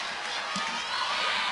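A crowd at a youth hockey national championship game roars steadily after a big hit, a dense, sustained wash of cheering and shouting close around.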